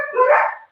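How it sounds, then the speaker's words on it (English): A single close, loud dog bark, drawn out into a short yelping howl that fades within a second, from excited household dogs. "now you guys get to hear my dogs. They are going crazy."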